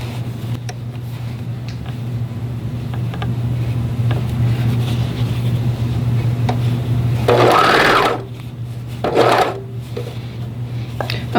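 Sewing machine stitching knit fabric binding, a steady close mechanical whirr running for several seconds, then stopping, followed by brief fabric rustling and a short second burst of stitching.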